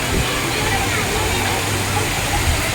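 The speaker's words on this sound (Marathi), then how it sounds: "बघा ना त्या दगडीतून कसं पाणी येतं धबधब्याचा खतरनाक" An artificial waterfall pouring over stones at Namo Grand Central Park in Thane gives a loud, constant broadband rush, heard up close with a voice talking over it.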